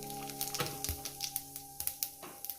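Cumin seeds sizzle softly in hot oil for a Bengali fish curry, a faint close crackle with small irregular pops over a steady hum.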